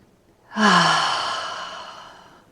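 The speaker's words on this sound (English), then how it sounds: "Last one, deep breath in. Exhale out." A single long, deep exhale during a breathing exercise, rising quickly and then trailing off slowly over about two seconds, close and alone.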